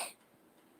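A man fakes a cough, imitating a sick person: one short, rough throat-clearing burst right at the start, then near silence.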